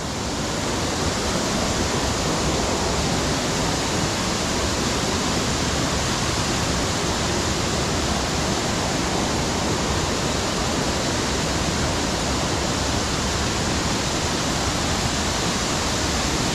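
Harmby waterfall near Leyburn, a dense, loud, unbroken rush of falling water heard close up and alone throughout.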